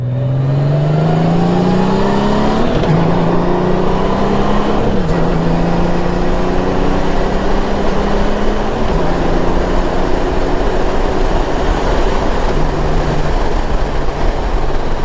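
A 2018-or-later Honda Gold Wing motorcycle revs out hard in sport mode. Its engine note climbs repeatedly through several gear shifts, loud, close and steady, with no talking.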